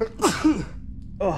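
A single short, forceful human sneeze bursts out near the start, followed by a pause and then a brief spoken exclamation.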